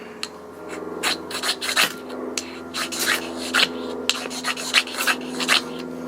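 A ferro rod is struck with a high-speed striker over a piece of fatwood, making repeated close, sharp scraping rasps in quick irregular strokes over a low steady background hum, with no talk.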